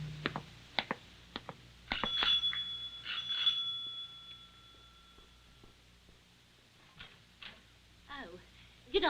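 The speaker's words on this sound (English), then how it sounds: "the front doorbell rang" A front doorbell in an old radio drama sounds as a bright ringing tone with a lingering ring, preceded by clicks and footsteps and followed by faint voices speaking quietly.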